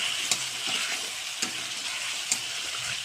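A spice paste of ginger, cumin, onion, garlic and chili fries with a steady sizzle for egg curry, with three sharp spatula scrapes spaced evenly through the stirring.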